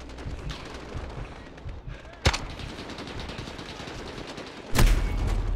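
Gunfire in Call of Duty Modern Warfare: scattered distant shots under a steady background rumble, broken by two sharp, loud reports about two and a half seconds apart, the second followed by a heavier boom.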